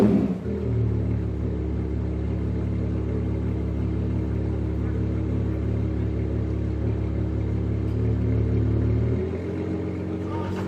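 A rare supercar's engine idles with a deep, steady rumble close by, holding evenly for about nine seconds before the tone drops and settles lower.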